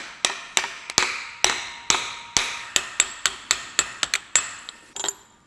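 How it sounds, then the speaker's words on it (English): Sharp metallic hammer strikes ring out as a bearing is hammered into place on a Mercedes E55 AMG, about fifteen blows in a steady, fairly quick rhythm, close and loud with no talking. "now you're gonna smack the bearing on"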